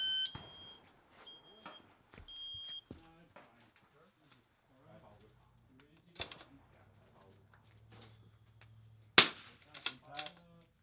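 Rimfire rifle shots at an NRL22 precision match on an outdoor range, preceded by high electronic shot timer beeps; several sharp cracks follow irregularly, with people talking and quieter stretches in between.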